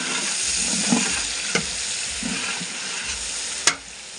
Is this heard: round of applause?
no